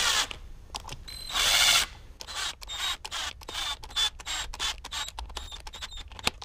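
A ratchet tightens motorcycle clutch cover bolts in a star pattern, making rapid close clicking runs in short repeated bursts with brief pauses between bolts, with a whirring spin in one burst and no talking.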